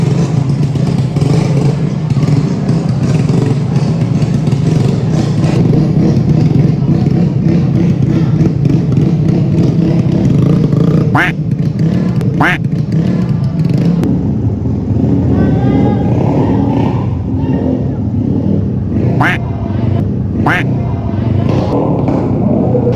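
Raider and Aerox motorcycles rev loudly in a slow drag race at a motor show, a dense continuous engine roar with clattering thumps and crowd noise as a voice talks over it.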